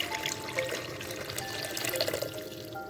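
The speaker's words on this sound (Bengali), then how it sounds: "আমি এখন পানি অ্যাড করে দেব" Water runs steadily into a pot of beetroot soup, a continuous close splashing pour with faint dripping and bubbling texture throughout.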